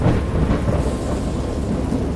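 A thunderstorm in the video game Dagon, based on the H.P. Lovecraft story, swells as a dense, steady wall of rain with deep rolling thunder. It is loud and continuous throughout, with no voices.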